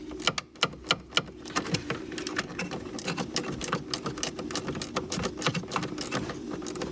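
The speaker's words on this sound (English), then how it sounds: "So I'm using a flex head ratchet for that bottom screw." A flex head ratchet works the bottom screw of a blower motor resistor on a 2002 Jeep Liberty, giving quick, close, steady ratchet clicks that start as a few distinct clacks and then run together into a fast chatter.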